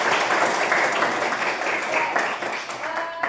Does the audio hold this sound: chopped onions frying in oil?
no